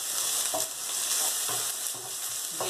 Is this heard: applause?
no